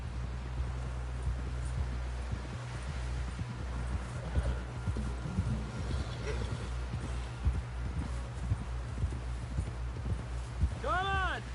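Horse hooves clip-clop steadily in the Red Dead Redemption 2 video game, a continuous close trotting rhythm under a low droning background, with a brief whinny near the end and voices talking over it.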